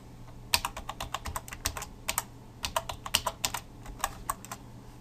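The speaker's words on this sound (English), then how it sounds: "I'm going to type in mine." Password being typed on a computer keyboard during a WordPress installation: a quick, uneven run of crisp key clicks, close and fairly quiet, with brief pauses between bursts and no talking.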